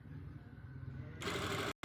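Sewing machine stitching a shirt runs with a steady mechanical hum, then speeds into a louder, denser whir before stopping abruptly.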